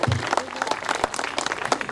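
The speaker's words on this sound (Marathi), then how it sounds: "जरा जोरदार टाळ्या अण्णांसाठी झाला पाहिजे" Audience applauding loudly for Anna at the inauguration ceremony of Kanishka Marriage Lawn, a dense, steady wash of clapping that fills the whole moment close and bright.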